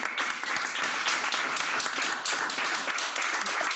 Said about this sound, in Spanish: Un aplauso. un aplauso.